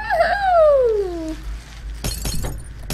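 Glass shatters in the Happy Wheels video game: after a rising whoop from a player's voice, a sharp bright crash of breaking panes bursts out with quick fragmented tinkling, loud and close.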